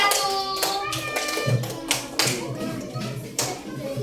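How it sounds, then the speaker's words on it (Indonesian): Schoolchildren in a first-grade classroom clap their hands for a group, giving a few uneven bursts of patting claps close by with some murmuring voices mixed in. "Tepuk tangan untuk kelompok 5"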